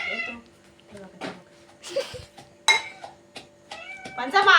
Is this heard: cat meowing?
yes